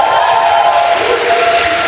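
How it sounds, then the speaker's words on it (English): A crowd cheers and roars at the Bisping vs GSP mixed martial arts press conference in Toronto, a loud, continuous wall of voices lasting the whole moment with no single speaker standing out. "Enjoy that cheer now"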